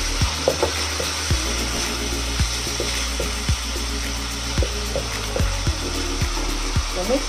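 Beef steak fries in a hot pan, a loud steady sizzle throughout with a constant hiss and periodic soft clicks and taps from the cookware.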